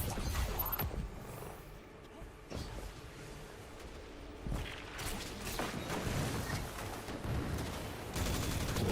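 Video-game gunfire as enemies are shot: repeated bursts and single cracks of rifle and machine-gun fire, some sharp and close, some duller thuds, spread unevenly over several seconds with faint speech at times.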